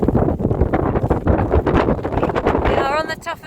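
Strong gusting wind on the top of Gun Hill in the rain buffets the microphone with a rough, roaring rush that continues throughout, and a voice is briefly heard at the end.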